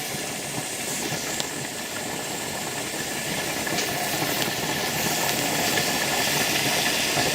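Steam hisses steadily from a pressure canner canning cooked venison, a loud continuous rush that holds level and swells slightly toward the end as pressure builds.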